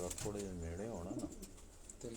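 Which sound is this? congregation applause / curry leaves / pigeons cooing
pigeons cooing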